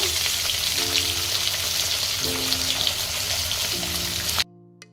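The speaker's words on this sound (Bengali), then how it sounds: "মাছের সাইজটা অনেক বড় তাই আমি একটা একটা করেই ভেজে নিচ্ছি" Hot mustard oil sizzles loudly and steadily as a large white pomfret fries, a constant crackling hiss with a faint hum, cutting off abruptly just before the end.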